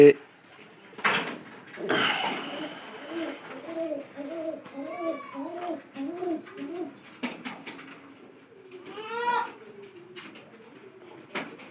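Repeated soft, rhythmic pigeon coos run through the middle, with a voice talking nearby and a brief scraping sound early on.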